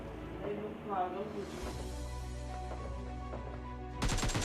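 Gunfire in the mobile battle-royale game PUBG Mobile Lite comes as a short, loud rapid burst at the very end, after a stretch of tonal background game sound with a voice-like murmur.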